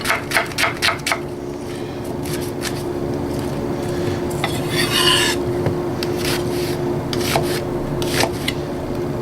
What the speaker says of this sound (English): I got this large onion here, and I'm gonna go with a medium dice.